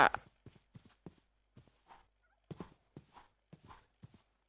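Minecraft chicken clucking in a survival game, a series of short, quiet clucks and rustling blips spaced irregularly with brief gaps between them.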